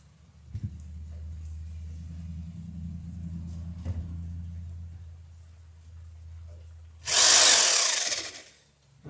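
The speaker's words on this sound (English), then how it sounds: "start the drill at a little bit of an angle, otherwise it'll run off the wood." A power drill hums at low speed for several seconds, then a loud, bright burst of grinding as the bit bites into wooden boat planking at an angle, then winds down.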